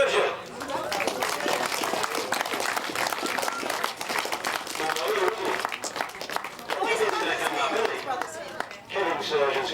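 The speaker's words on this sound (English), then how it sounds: "A big round of applause, please," Crowd applause at a 2005 grasstrack racing prize-giving, sustained rapid clapping from a sizeable audience with some chatter mixed in, swelling and easing over about ten seconds.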